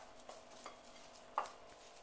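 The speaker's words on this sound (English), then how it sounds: "just stir these together" Quiet stirring of grated cheese, oil, salt and pepper in a mixing bowl, soft scraping strokes at a steady pace with one sharper clink near the end, no talking.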